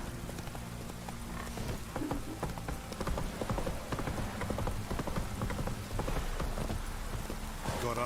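Hooves of the horse Roach clip-clopping in The Witcher 3, a steady rhythmic run of close hoof strikes over a constant patter of rain, with no speech.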